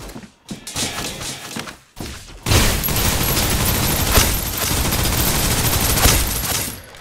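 Enemy gunfire in the shooter game Snowbreak: Containment Zone: a few sharp separated shots, then a dense, loud, continuous barrage of rapid automatic fire with thuds and impacts for several seconds.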